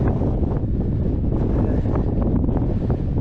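Strong, steady, cold wind on a fell in the English Lake District roaring and buffeting the microphone, loud and unbroken, with no voices.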